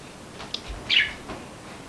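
A pet bird chirps in a short burst of quick, thin tweets, one clear call in the middle and fainter notes around it, close by with no talk over it.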